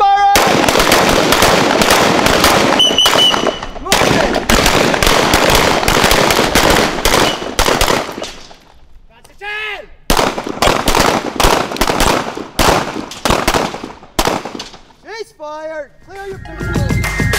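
Rifles fire during close-quarters tactical training in the Philippines, with rapid bursts of sharp, loud shots that pause and resume. Commands are shouted between the volleys.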